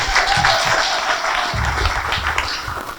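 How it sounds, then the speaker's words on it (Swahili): A church congregation applauds at a sermon, a dense, steady wash of clapping filling the room at close range with a few louder bursts and no pause. "Hebu mpigie Yesu makofi zaidi."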